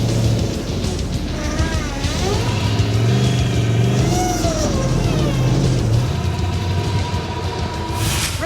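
A heavily built Chevrolet Suburban tow rig revs its engine hard during an off-road 4x4 recovery, a loud, continuous roar that rises and falls steadily throughout with no break.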